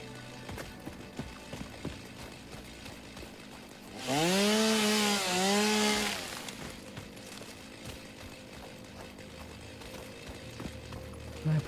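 A chainsaw revs and cuts trees in the Satisfactory video game, giving a loud two-second burst with a rising and falling engine whine midway through an otherwise quiet stretch of low game ambience.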